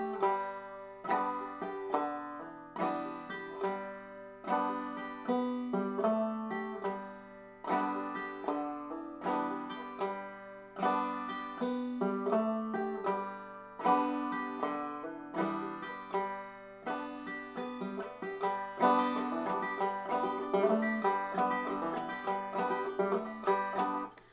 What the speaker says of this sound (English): So I'm doing my drop thumb onto my third string.